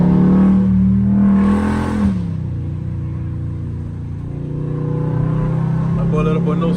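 A car engine revs hard and steadily with its wheels spinning on wet, rain-soaked pavement, the loud drone dipping and rising again. People talk over the engine noise.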